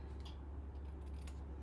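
Scissors snip through card paper in a short, faint cut, quiet and close with no talking.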